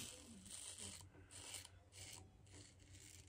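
Soft, rhythmic raspy scraping strokes of a Voskhod safety razor dragging across stubble, repeating steadily at close range and quiet.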